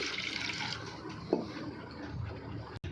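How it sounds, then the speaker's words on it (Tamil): Water is poured from a tumbler into a vessel holding nilavembu roots for an herbal decoction, a faint, short, gurgling splash and trickle heard up close, ending in a brief knock. "இன்னும் 2 டம்ளர் தண்ணி ஊற்றி அதே வேரில் வந்து ஊற போட்டேன்"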